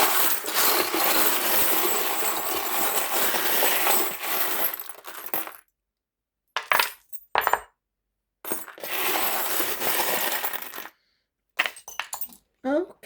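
Dice are pulled and handled during a tarot reading. Long stretches of close rattling and clattering with metallic clinks break off into silences and short bursts of handling.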